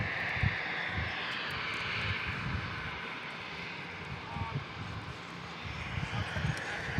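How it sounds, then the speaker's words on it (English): At San Diego International Airport, an American Airlines A321neo jet gives off a steady engine rumble and whine as it taxis onto the runway. Heard from a distance, it sits under intermittent talking. "American A321neo taking the runway after that E175"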